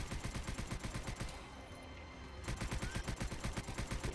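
Rapid, evenly spaced gunfire from a gun in the game Subterrain, a steady automatic stream of shots that pauses briefly in the middle and then resumes at the same pace.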